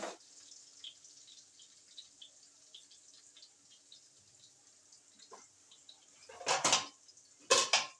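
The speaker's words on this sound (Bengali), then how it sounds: "চড়িয়ে দিচ্ছি আরেকটা হাঁড়ি" Cooking pot being handled in a home kitchen and set down on the stove, faint light clinks through a quiet stretch, then two louder metallic clatters near the end.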